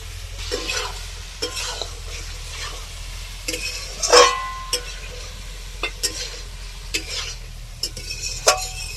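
Cauliflower goes into a spiced masala frying in a pot for a cauliflower biryani. A soft background sizzle runs under repeated scraping stirs and spoon clanks against the pan, one sharper metallic knock standing out, with no speech.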